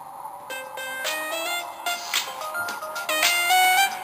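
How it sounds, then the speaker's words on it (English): A telephone rings with a melodic electronic tone, repeating bursts of bright stacked notes that grow louder toward the end, with no voices over it. "Your phone is ringing."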